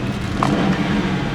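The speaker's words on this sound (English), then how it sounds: "the vehicle is still running." A 2011 Ford Crown Victoria Police Interceptor idles steadily in a brief, even, close-up engine rumble with no talking over it.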